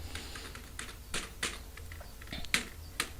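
Faint computer keyboard typing during data entry, with irregular clusters of soft key clicks and a few louder taps, close by against a quiet background hum, no voices.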